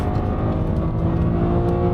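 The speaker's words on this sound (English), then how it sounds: "Such an enjoyable engine. This N52 is a peach." BMW Z4 E89 roadster's N52 straight-six engine accelerating on the road, a steady loud drone with a smooth, continuous whirring tone and no talk.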